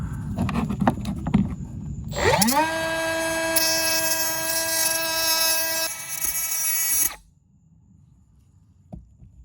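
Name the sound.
power tool grinding the end off a part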